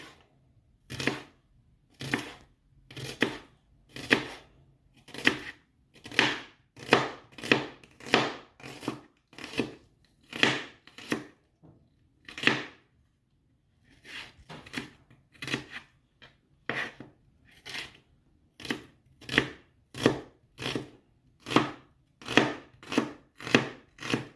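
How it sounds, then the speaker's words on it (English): A knife slices onions long and fine on a board, a steady run of crisp, evenly spaced cuts close up with one short pause midway. "We slice them long, but really fine."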